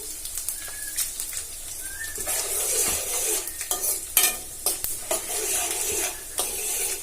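Tempering seeds and dry red chillies crackle and sizzle in hot oil for a curry leaf chutney, with a continuous hiss under scattered sharp pops and stirring scrapes, and birds cooing faintly in the background.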